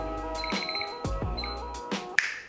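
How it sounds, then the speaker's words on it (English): A kitchen timer goes off while hummus is being made, giving a quick series of bright electronic beeps among clinks and knocks in the kitchen, ending in a sharp click. "So set your timers, 10 minutes and counting."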